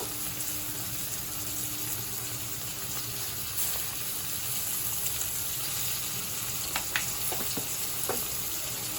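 Chow mein sizzles and fries in a pan at home, a soft continuous hiss with a few faint clinks of the stirring utensil toward the end.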